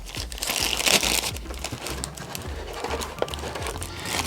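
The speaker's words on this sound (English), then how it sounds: "So we'll need another Ziploc bag right here," A Ziploc plastic bag is handled close up while pieces of a board game are packed into a box, giving steady crinkling and crumpling throughout with small taps and rustles and no talk.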